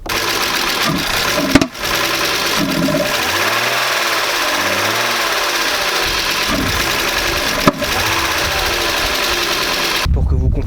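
A BMW E36 320i engine revs repeatedly, loud and close, rising and falling with sharp popping bangs at a few points, its tone cutting out briefly near the end.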